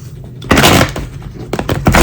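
Quick rustling bursts of tarot cards being shuffled, a longer riffle followed by shorter flicks, close and fairly loud with no talking.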